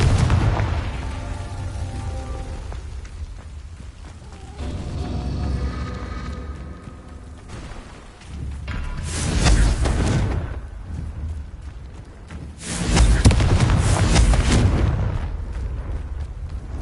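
Confringo spell explosions in the video game Hogwarts Legacy: deep, rumbling booms bursting out in two strong waves after quieter crackling, each blast swelling loud and then fading.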